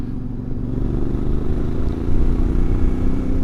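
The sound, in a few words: CFMOTO MT450 motorcycle engine riding in sixth gear at 50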